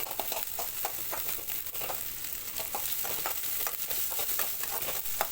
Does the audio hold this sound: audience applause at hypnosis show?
no